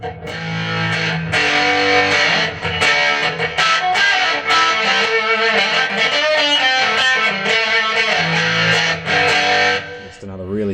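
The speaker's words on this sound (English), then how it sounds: "Just another really strong distortion there." Heavily distorted electric guitar played through a MUZA GP300 multi-effects pedal, a thick, saturated tone sustained loudly and continuously for about ten seconds before cutting off near the end.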